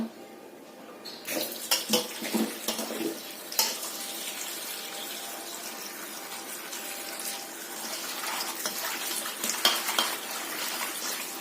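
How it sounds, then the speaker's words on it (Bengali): Food is rinsed under a running kitchen tap, a close, splashing water flow with occasional clinks of a pot or utensil. It starts after a second of quiet and continues unevenly to the end, with no talking. "এটা ধুয়ে নেব"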